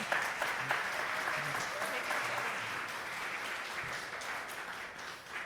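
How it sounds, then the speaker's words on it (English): Audience applause for a panel at a comics convention, steady and sustained clapping from a large crowd throughout, with faint voices mixed underneath. "Can we get a round of applause for our awesome panel?"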